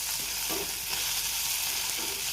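Okra frying in a pan on a low simmer, an even, close crackling sizzle with faint stirring scrapes mixed in and no talking.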